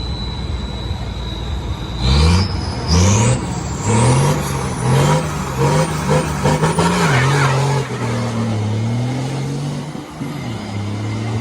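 Six-wheel diesel trucks with mechanical line-pump injection drag racing at CWR track in Kanchanaburi: loud, close engines rev sharply through several quick gear shifts, then settle into a sustained, rising drone with tyre and road noise.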